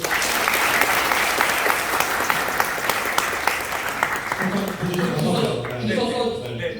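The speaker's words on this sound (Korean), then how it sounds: "박수 한번 보내세요" Loud, dense applause fills a lecture hall during a company chairman's business seminar, sustained for several seconds before thinning out as a voice begins speaking underneath.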